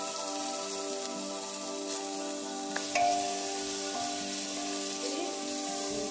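Sliced onions sizzling in hot oil with masala for beef curry, a steady, even frying hiss throughout with a faint clink from stirring partway through.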